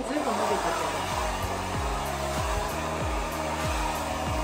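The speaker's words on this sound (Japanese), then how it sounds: "ドライヤーとロールブラシ" A hair dryer blows on hair being styled with a round brush, a loud, steady close-up whoosh of airflow that runs unbroken throughout, with faint low tonal streaks beneath.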